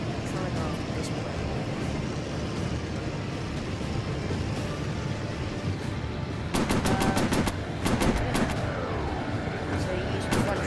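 VR plane combat game on Quest 2: a steady engine drone runs throughout, then rapid machine gun bursts rattle out in several short volleys in the second half, with a voice talking over parts of it.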